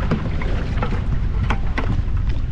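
Strong wind buffets a small boat out on choppy open water near a tropical island, a steady loud roar of gusts and water slap with sharp splashes as boat wakes hit the hull.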